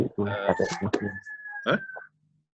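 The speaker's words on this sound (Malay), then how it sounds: "kelas kita memang ada ayam" Chicken clucking near a classroom, a short burst of clucks and a brief crow-like call, close and fairly loud, then silence.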